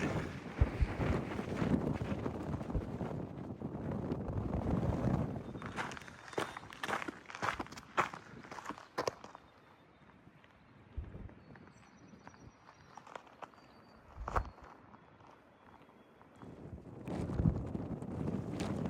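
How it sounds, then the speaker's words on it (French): Strong wind buffets the microphone in rough, uneven gusts on the Appalachian Trail, mixed with crunching footsteps and scattered knocks. "Le vent est très fort, donc je ne prendrai pas beaucoup de vue."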